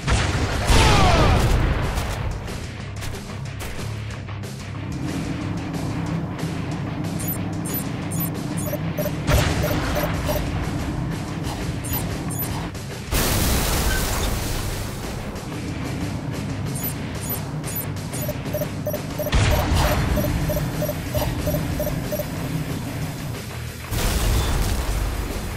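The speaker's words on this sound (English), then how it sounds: "And that's the rocket launcher" Rocket launcher in Halo Reach firing and exploding repeatedly, several heavy booming blasts spaced through a long stretch with crashing debris and sustained rumbling between them, loud and mostly free of talk.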